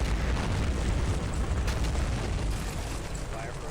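Artillery shells slam into a wooded objective in the wargame Combat Mission Fortress Italy, a dense, unbroken barrage of deep rumbling booms and crackling blasts that stays loud for the whole stretch.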